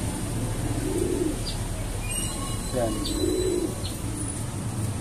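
Breeding pigeons in a loft give soft, low coos in two or three brief rounds, heard under someone talking and against steady background hiss.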